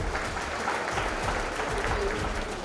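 Hall crowd at a school's annual prize-distribution ceremony gives strong, sustained applause for a student who won a silver medal in karate in Goa, a dense, continuous roar of many hands clapping throughout.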